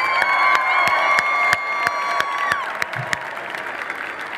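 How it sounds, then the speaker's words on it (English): An audience at a FIRST robotics Dean's List award ceremony applauds and cheers, a dense wash of clapping with scattered louder claps and a few shouts, while a high tone hums in the background. "let's give them and all the Dean's List finalists a big round of applause."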